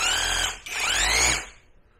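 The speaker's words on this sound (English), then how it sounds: "This is supposed to be hammer drilling." A Neiko cordless rotary hammer running in hammer-drill mode gives a loud, close, high-pitched whirring buzz with a rapid rattle. It stops briefly after half a second, then restarts and runs before winding down.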